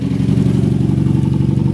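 Nissan SR20DET engine swapped into an S13 chassis, running with a steady, close, low throbbing idle that holds level throughout, with no clear rev rise and no voices.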